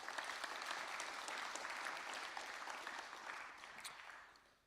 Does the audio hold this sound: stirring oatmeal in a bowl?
no